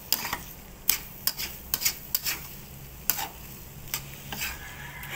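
Martabak filling being stirred in a pan, with scattered scraping and tapping strokes of a utensil over a low, steady frying sizzle, close and fairly quiet, no voices.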